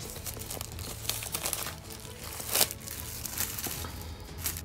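Plastic blister wrap is peeled off a Blu-ray steelbook. There is close crinkling and crackling with a sharper tearing crunch partway through, and no talk.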